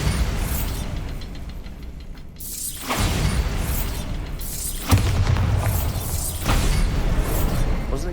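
Repeated booming Bombarda spell explosions in Hogwarts Legacy, a few seconds apart, each a loud thud with a crackling, shattering tail over continuous rumbling game ambience.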